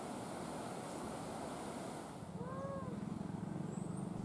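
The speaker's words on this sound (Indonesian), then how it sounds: "Tanggul penahan air sungai jebol hingga air menerjang permukiman warga yang berada di bantaran sungai." Floodwater pouring from a burst river dike into a riverside village in Bone Bolango, Gorontalo, heard as a steady, loud broadband rush of churning water with wind buffeting the microphone, continuous throughout with no voices.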